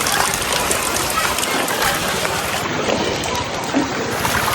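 Heavy river water rushes steadily past a village in Gariyadhar after torrential rain, a dense, continuous roar of flooding current that stays loud throughout with no clear breaks.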